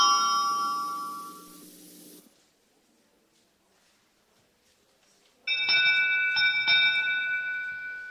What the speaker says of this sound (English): That sound means final spin.